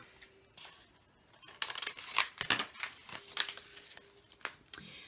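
Scissors snipping through a strip of thin cereal box cardboard, several short crisp cuts and paper rustles, close and fairly quiet, with no talking.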